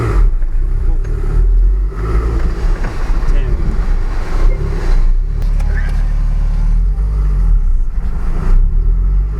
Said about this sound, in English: Now for driving Rob's car.